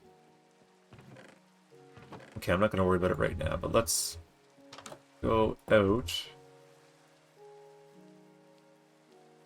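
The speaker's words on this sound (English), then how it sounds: "Alright, well, it's raining" Rain falls in the video game Minecraft as a soft, steady patter beneath someone talking and faint game music.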